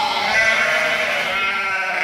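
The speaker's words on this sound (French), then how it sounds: "Oh, et voici les moutons promis." Sheep in the video game Stronghold 2 let out a loud, close bleat that wavers and holds for about two seconds, heard on its own.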